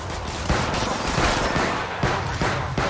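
Rapid, dense gunfire from the Apex Legends Mobile video game fills the whole stretch, with sharp repeated shot bursts near and loud and no break between them.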